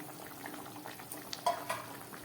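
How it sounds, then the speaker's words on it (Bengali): Fried prawns go into a simmering taro and potato curry: faint, steady bubbling and stirring in a pot, with a few soft splashes and clinks about halfway through. "এবার দিয়ে দিচ্ছি ভেজে রাখা চিংড়ি মাছটা"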